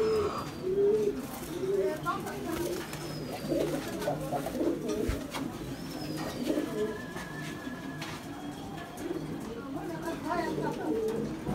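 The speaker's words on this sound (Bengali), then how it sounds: "এগুলা জেনারেশনের অনেক সুন্দর কবুতর।" High flyer pigeons coo repeatedly at close range, with soft chirps and wing rustles mixed in, while people talk over them throughout.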